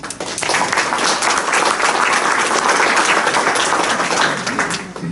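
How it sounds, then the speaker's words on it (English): Full, sustained applause from a workshop audience honouring DSCA members in Sarasota, with many people clapping at once at a steady high level before it tapers off at the end. "So I want to give an incredible round of applause to every single DSCA member who is here."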